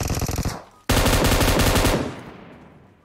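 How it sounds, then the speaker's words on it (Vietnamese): Automatic gunfire in the video game PUBG Mobile: a rapid loud burst of shots, a short pause, then a second sustained loud burst that trails off. "Nãy mình vừa nghe có tiếng súng ở chỗ đồi cam nha"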